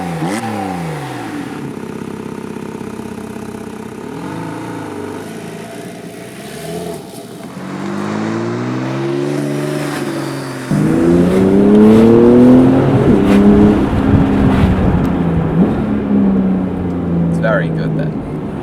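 A Porsche 911 Carrera 4 GTS engine and exhaust rumbles steadily from inside the moving car, then surges louder as it revs and pulls harder, with a voice talking over it throughout.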